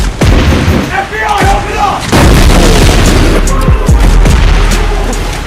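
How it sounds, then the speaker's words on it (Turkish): Gunfire in PUBG Mobile, a shot fired through a window, heard as heavy booming reports with a dense rumbling battlefield bed, several loud blasts spread across the stretch. "Var ya pencereden vurdum adamı ya."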